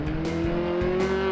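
A midget race car circles a 400 m oval at speed, its engine holding a continuous loud buzzing drone that rises slightly in pitch, with brief rhythmic dips from throttle or gear changes.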